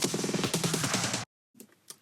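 Two drum fill samples sound together, a dense run of rapid close hits for about a second and a quarter, then a sudden stop, followed by a quieter, filtered fill with thinner, sparse hits.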